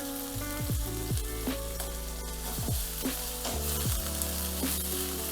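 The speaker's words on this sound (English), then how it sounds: "just put it in the pan and let it sear for about 30 seconds or so" Strips of beef for Peruvian lomo saltado sear in smoking hot oil in a pan, with a loud steady sizzle and crackle heard close up, alone and with no talking.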